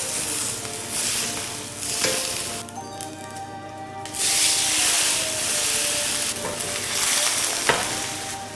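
Steak seared fat side down in a hot pan, a loud continuous sizzle and hiss with crackling spatter that swells in the second half, close up with no voices.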